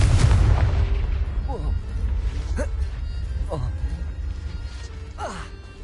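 Fiery Confringo spell blasts in Hogwarts Legacy, a heavy low boom at the start followed by lighter magical bursts and whooshing effects, with game voices heard between the hits.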